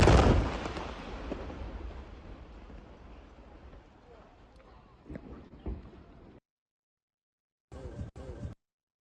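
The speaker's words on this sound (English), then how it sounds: "This is like the mines that we put inside. And this is how it looks for the explosion." A landmine explosion played back from a recording: a loud, broadband blast at the start that rumbles and decays over several seconds, followed by a few scattered bangs, a sudden cutoff to silence, then a brief burst of further noise.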